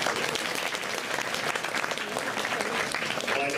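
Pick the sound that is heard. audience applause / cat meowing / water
audience applause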